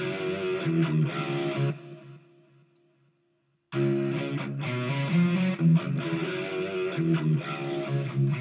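Guitar sample with its melody re-pitched in Melodyne, playing a bright, slightly distorted phrase that fades to near silence around the middle, then returns with strummed, rhythmic notes to the end.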